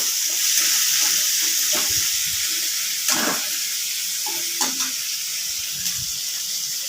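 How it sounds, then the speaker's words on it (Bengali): Onion frying in a pan for a prawn dish, a bright steady sizzle with occasional stirring scrapes and clinks, close and with no talking. "পেঁয়াজটা আমি লাল করে ভেজে নেব"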